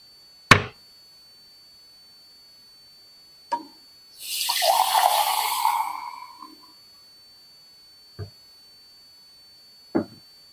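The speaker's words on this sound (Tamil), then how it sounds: "என்ன செய்யணும்னா முதல்ல கொஞ்சம் தண்ணி பிடிச்சிக்கலாம்" Water runs from a kitchen tap for about two seconds, a steady rushing pour framed by a few sharp knocks and clicks of handling before and after, with no talking.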